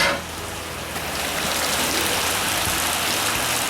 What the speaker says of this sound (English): And it's raining like hell.